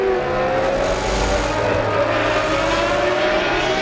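A 1995 Formula 1 race car at the San Marino Grand Prix accelerating hard uphill, a loud high-pitched engine scream rising steadily and staying close throughout.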